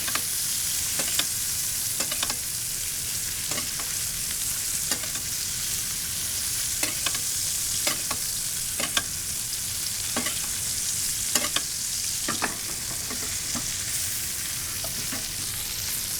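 Steak sears in garlic butter in a hot pan, giving a constant loud sizzle with scattered sharp pops and spatters throughout, no voices.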